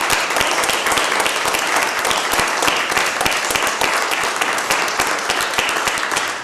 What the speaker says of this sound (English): please give a big applause to my wife because she always tolerates what I'm doing.